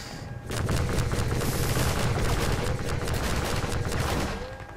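Rapid bursts of gunfire in the Half-Life 2 Strider battle, a dense continuous volley of shots and booms that fills nearly the whole stretch at close range, with no talk over it.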